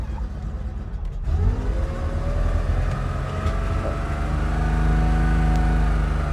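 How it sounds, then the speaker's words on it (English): A 1975 Porsche 911 2.7 Carrera with mechanical fuel injection idles high with the choke up, a steady loud flat-six drone with a brief dip near the start, alone without talk. "let's just keep it idling up a little bit"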